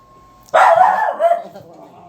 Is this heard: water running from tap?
no